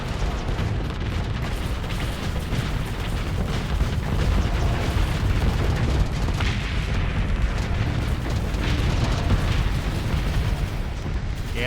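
Fast missiles slamming into ships during a Starsector space battle, a dense, continuous barrage of booming impacts and rumbling blasts that holds steady and loud throughout.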